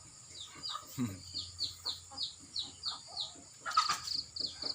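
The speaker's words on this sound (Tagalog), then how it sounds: "Pinapakain po. Yung mga manok." Chickens being fed outdoors in a quiet mountain village: a steady run of clucks and short calls repeating about twice a second, close by, with a brief knock and a louder squawk near the end and faint laughter in the background.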